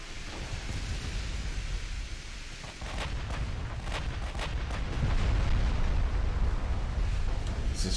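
Warship shells striking the player's ship in Ultimate Admiral Dreadnoughts, a string of sharp impact cracks over a constant low rumble of battle and sea noise.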